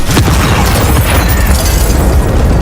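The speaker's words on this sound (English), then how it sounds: "Secondary detonation to the cabin!" A loud secondary detonation tears through a cabin during a Call of Duty Modern Warfare mission, a close, heavy blast with crackling debris and a rumbling tail filling the short moment.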